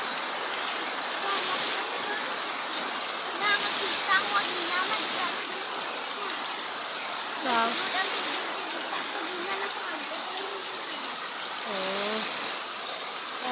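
Heavy rain pours down with water overflowing at a home, a dense, steady rushing hiss filling the whole stretch while voices talk over it now and then.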